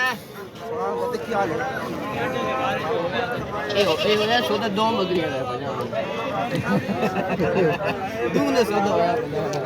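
Goats bleat repeatedly amid a busy crowd at the Talagang livestock market, where a four-month-old crossbred goat is sold. The calls overlap with steady chatter from nearby people.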